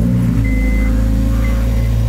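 A Honda Civic Type R EP3 engine runs with a loud, steady low idle rumble, close to the listener, with no voices over it.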